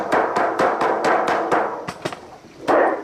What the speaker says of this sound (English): take a rubber mallet and just go along